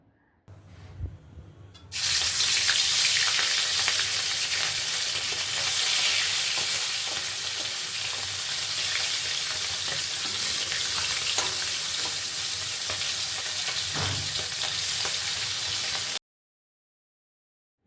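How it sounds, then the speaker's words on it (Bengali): After a brief quiet start, loud, steady sizzling and crackling from small tangra fish frying in hot mustard oil fills the clip, dense and close, with no voices. "তেলটা বেশ গরম হয়ে গেলে তার মধ্যে নুন হলুদ দিয়ে মাখিয়ে রাখা মাছগুলো ভালো করে ভেজে নেব"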